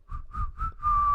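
Someone whistles a few notes of a song, three short tones and then a longer held note, close and fairly soft.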